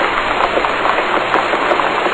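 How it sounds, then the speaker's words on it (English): Rain falls in the Dora the Explorer: Click & Create PC game, a loud, steady hiss of pattering drops filling the scene with no voices. "Rain. Everything's getting wet now."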